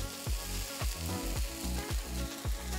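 Chopped red onion sizzles steadily in a hot frying pan with very little oil, a close, continuous crackle broken by regular soft stirring scrapes.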